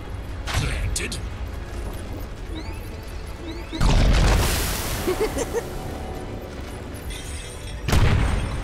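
Loud booming bursts from explosions in a MOBA-style video game, one heavy blast near the middle and another toward the end, set over constant game noise and effects with speech-like voices present.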